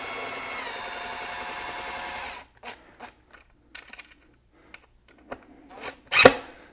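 A power drill with a bit runs steadily for a couple of seconds while boring into a wall to hang a molly bolt, then stops, followed by scattered short scraping and handling noises and a louder final rasp.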